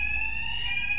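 Alarm blaring in Batman Arkham Knight, a loud continuous high-pitched electronic tone held steadily throughout with no voices.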